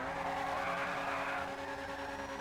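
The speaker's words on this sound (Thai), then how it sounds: "และนี่ก็คืออ โหมดดริฟต์นะครับ" Benefactor Feltzer car drifting in GTA V, a steady engine roar with a sustained tire squeal sweeping across it, loud and close throughout with no talk.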